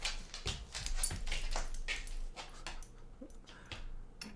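A dog whimpers and whines softly at close range in short repeated cries, with rustling and handling noises around it and no speech.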